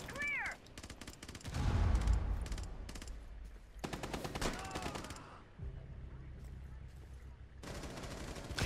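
Rapid bursts of automatic gunfire in Rainbow Six Siege, loud and close, firing in several clusters across the clip with brief pauses, mixed with game effects and a voice talking over parts of it.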